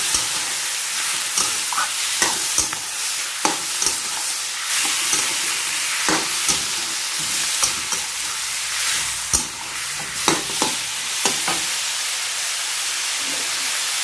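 Cabbage and fresh shrimp stir-fry in a hot pan with a steady loud sizzle, broken by repeated scraping and clacking of a spatula tossing the vegetables, no voices.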